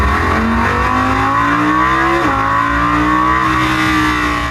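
A naturally aspirated 5.2-litre V10 in an Audi R8 revs hard and close, its engine note climbing steadily in pitch with a brief dip midway before rising again, loud and continuous throughout.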